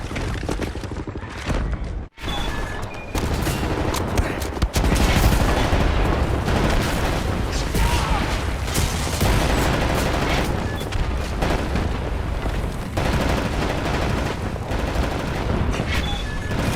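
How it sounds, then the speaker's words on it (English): Sustained suppressing gunfire in Wolfenstein: The New Order: a dense, loud barrage of overlapping shots that runs almost without a break after a brief gap near the start, with no talk over it. "Right, lads, you ready to lay down suppressor fire?"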